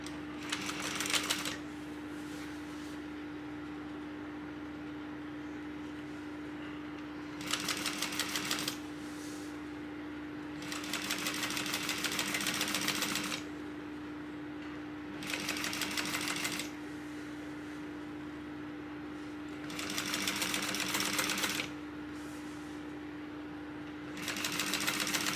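Sewing machine stitching a tote bag, running in about five separate bursts of rapid stitching with short pauses between, fairly close and steady against a faint constant hum.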